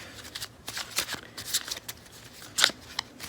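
Tarot cards being shuffled and drawn by hand make quick, close riffling bursts and soft slaps of cards, with an uneven rhythm and short pauses between handfuls.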